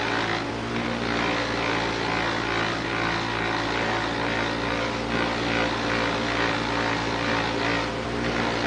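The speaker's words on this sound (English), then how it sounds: "You can literally hear the metal as it's working on the wheel." A brass workpiece is pressed against a spinning buffing wheel, a steady, continuous whirring drone of the motor and wheel with a rough friction hiss, close and even throughout, with no talking.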